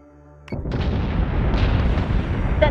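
An artillery battery fires in the space strategy game BSG: Deadlock, a loud, dense barrage of booming blasts that sets in abruptly after a quiet moment and keeps rumbling without a break.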